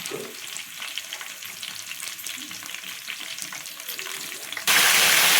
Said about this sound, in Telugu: క్యాప్సికమ్ అనేది వేసేద్దాం. మంచిగా నూనెలు అనేది వేగుతుంది